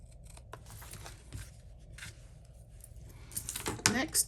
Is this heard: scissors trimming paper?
yes